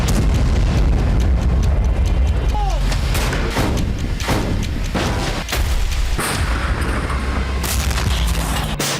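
Missile strikes on the Ukrainian city of Kharkiv: a dense, continuous roar of heavy booms and rumbling blasts, loud and sustained throughout with repeated sharp impacts and a brief whistling tone, with no clear pauses.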